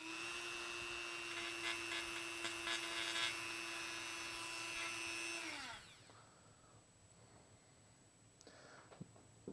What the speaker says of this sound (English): I'm going to sand off a little bit more.